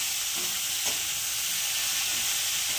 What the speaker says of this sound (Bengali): নুনটা সবজির সঙ্গে খুব ভালো করে মিশিয়ে নেব।